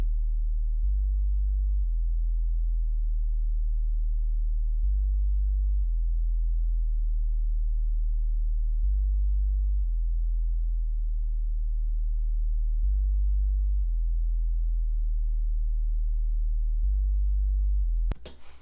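Compressed 808 sub bass notes play as a deep, smooth low-pitched pattern, each note sustained before the next in a steady repeating sequence, loud and alone, ending abruptly.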